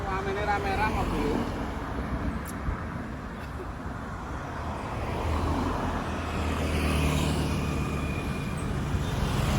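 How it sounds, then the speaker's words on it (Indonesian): Heavy traffic streams past on a road beside rice fields, a steady roar of engines and tyres rising and falling as vehicles go by, with a voice speaking over it. "Ini rame-rame mobil."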